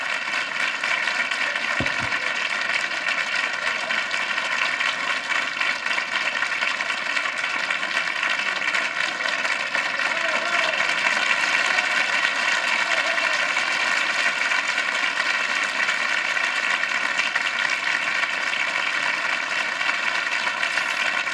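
A 1975 television studio audience at a Don Rickles show applauds in a dense, steady roar of clapping that holds without a break for about twenty seconds, with one brief knock near the start and no talking over it.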